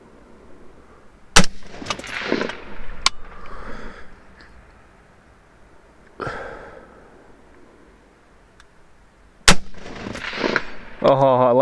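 Single rifle shots from a 20-inch BCA M16A3 clone firing Hornady M193 ammunition at long range outdoors, loud sharp cracks spaced several seconds apart with fading echoes, and voices talking between shots.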